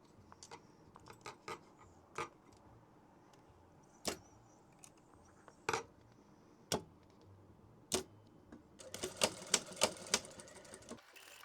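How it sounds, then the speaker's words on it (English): A sewing machine stitches through quilt batting in short separate bursts with brief pauses between them, then runs in a faster, denser stretch near the end. The sound is close and moderately quiet, with no talking. "Let's start sewing."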